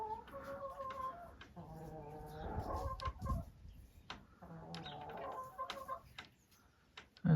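Free-ranging hens clucking in short, repeated bursts close by, a rooster mixed in among them, with brief pauses between the calls.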